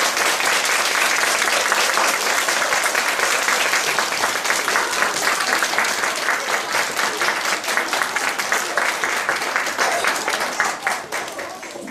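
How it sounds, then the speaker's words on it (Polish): A kindergarten audience of parents and guests gives children a loud, sustained burst of applause at a National Independence Day celebration. The dense clapping runs steadily for about twelve seconds and thins slightly near the end. "Zasłużyły dzieci na jeszcze raz gromkie brawa."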